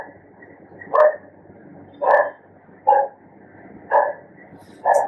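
Dogs bark in the distance, five single woofs spaced about a second apart in a steady rhythm against a quiet background.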